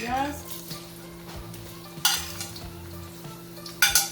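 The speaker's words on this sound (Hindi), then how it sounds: "प्याज को लाइट ब्राउन करेंगे" Onions sizzling and frying in hot oil and ghee in a kadai, a steady close crackle with occasional scraping stirs and clinks of a utensil against the pan.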